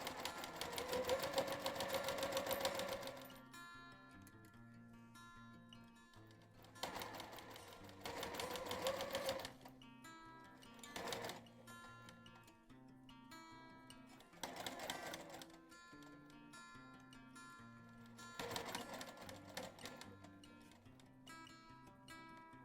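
A home sewing machine stitches a seam with a quarter-inch allowance in short runs, quiet bursts of rapid whirring separated by pauses, with soft background music throughout.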